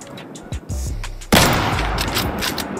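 Gunfire in the survival shooter game Deadside, a couple of short sharp shots followed by a loud blast whose sound rings and decays, with lighter pops continuing near the end.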